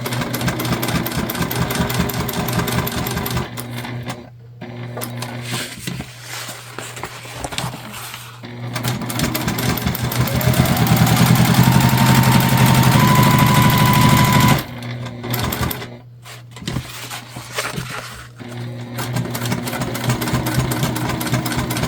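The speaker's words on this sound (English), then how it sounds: "we're just going to come in here and sew the rest of the sides together, finishing off our zip pocket" A sewing machine stitches the sides of a Zora shoulder bag together, finishing a zip pocket, in a loud, close, rapid mechanical whir that runs in several bursts with short pauses between them.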